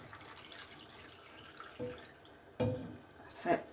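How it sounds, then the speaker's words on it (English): Cooled pickling sauce poured into a jar of young ginger comes through as three short, close splashing and gurgling bursts of liquid, each louder than the last, over a soft background hiss. "just pour this sauce into the jar"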